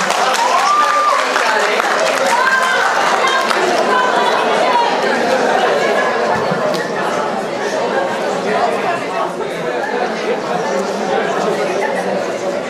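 Audience at a student freshman ball applauds steadily, a dense, sustained wash of clapping mixed with crowd chatter throughout, loud and close, with no break.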